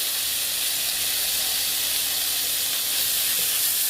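Vermicelli and corn sizzle and hiss steadily in a pan while being stirred, a continuous close frying noise with no talk.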